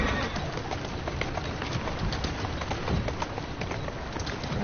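Pigeons coo and flutter in the game Assassin's Creed Syndicate within a dense, steady outdoor ambience, with clip-clop sounds in the background.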